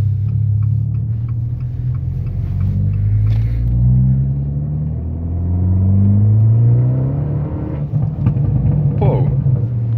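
An Abarth 595 engine rumbles steadily while driving, with rising and falling rev sweeps and a low continuous drone from inside the car, and a voice talks briefly over it.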